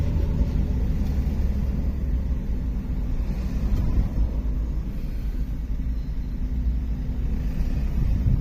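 A sugarcane truck's engine sends out a steady, heavy low rumble along a road at night. It is loud and continuous, with no breaks and no voices.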